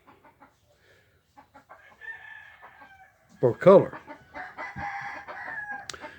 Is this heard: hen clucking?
yes